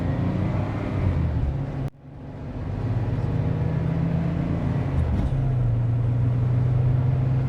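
A 4-speed Chevrolet Corvair driving, its engine a steady low rumble that drops out briefly then resumes and shifts pitch as it pulls along, heard from inside or close by, with no talk.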